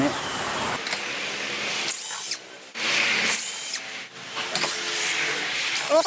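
Nuts come off a standing fan during disassembly in several short, loud mechanical whirring bursts separated by quieter pauses, close to the listener.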